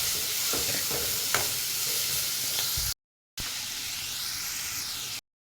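Dried fish sautéing with salt in a hot pan, giving a steady loud sizzle with a few scraping stir strokes, a brief break, then more continuous sizzling.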